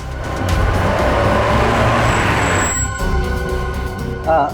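A car pulls up and arrives, its engine rumbling loudly and steadily before easing off into a lower idle, with a short bump of sound just before the end.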